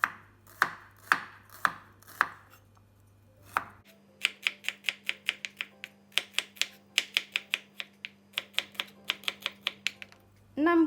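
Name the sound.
slicing shallots (red onions) for kecap sambal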